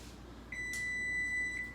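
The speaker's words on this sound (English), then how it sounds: "Okay, so timer." A kitchen timer goes off while noodles cook for homemade mac and cheese, sounding a thin, high electronic beep that starts about halfway in and holds for roughly a second, faint against a quiet room.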